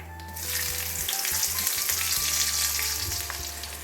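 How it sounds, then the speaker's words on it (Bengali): Slit green chilies sizzle in oil after black cumin seeds, a bright, steady crackling hiss that starts up quickly, over a low steady hum. "দিচ্ছি আমি 2টো কাঁচা লঙ্কা,"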